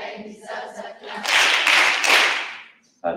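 A church congregation at Sunday Mass bursts into clapping, a dense wash of many hands that swells, holds for about a second and a half, then fades, with a speaking voice before it.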